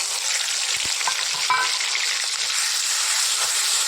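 Ginger-garlic paste with chilli, turmeric, cumin and chilli powder fries in hot oil in a pan, a loud steady hiss with faint occasional stirring scrapes, close up with no talk.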